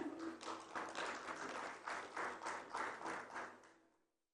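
Applause for a family, Muhammad Aslam and his wife, receiving a home solar kit at a distribution event, a small group clapping in soft rhythmic bursts that fade out.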